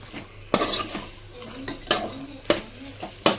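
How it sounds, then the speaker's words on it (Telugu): A spoon scrapes and knocks against a metal pot in uneven strokes while a thick paste is stirred into curry, with a faint sizzle underneath. "ఇది కూడా వేసేసుకొని కలిపేసుకోవాలన్నమాట"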